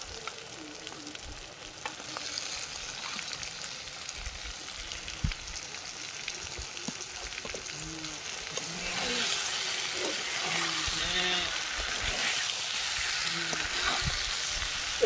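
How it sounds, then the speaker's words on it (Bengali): Shol fish and fried potatoes hit hot spiced oil in a pan, a steady sizzle and frying crackle running throughout with occasional stirring clatter, close and fairly loud. "এবার ভেজে রাখা আলুগুলো দিয়ে দেবো।"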